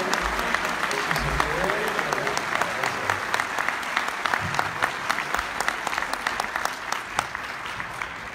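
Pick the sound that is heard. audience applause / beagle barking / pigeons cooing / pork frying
audience applause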